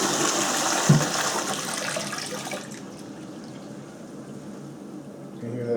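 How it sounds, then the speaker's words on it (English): A Kohler wall-hung toilet runs its low-flow flush after a button press: a loud broadband rush of water that fades to a softer trickling refill, with no talking over it. "can hear that flush really well."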